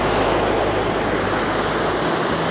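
Steady ocean surf rushes onto a beach on La Digue in the Seychelles, a loud continuous wash of breaking waves with wind noise across the microphone.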